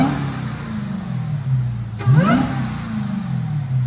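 A Dodge SRT Hellcat's supercharged V8 idles with a loud, steady rumble, then gets a quick blip of the throttle that rises and falls in pitch, with supercharger whine over the engine at close range.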